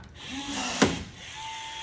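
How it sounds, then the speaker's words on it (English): A 1/8 inch rivet is set into an outlaw kart wing, giving one short sharp snap of the rivet tool against a steady background hum, close and fairly loud, with no talking. "now let's put the front one in here, the front 1/8" rivet, just like that"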